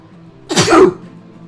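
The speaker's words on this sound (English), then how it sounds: "Was it a sneeze? Yes." A single sharp sneeze bursts out close by, loud and brief, followed by quiet.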